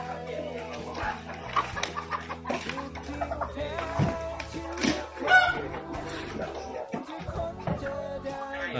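Hens and roosters at a Thai fighting-cock breeding farm cluck and call repeatedly through a dense, busy stretch, with one louder call rising midway.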